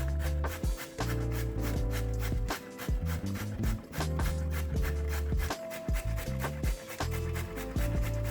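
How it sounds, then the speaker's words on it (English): A large carrot being grated by hand, giving a steady run of rough rasping strokes, close and fairly loud, with a few short pauses between bursts and no talking. "grate 1 large carrot"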